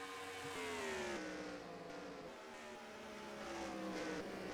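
Race car engines roaring in NASCAR Racing 2003 (NR2003), a continuous loud pack of cars with rising and falling engine pitches as they jostle for position on an oval track during the Southern 500.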